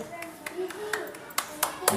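Children in a classroom clapping together, a handful of sharp claps spaced out over two seconds, fairly soft, alongside voices speaking over them.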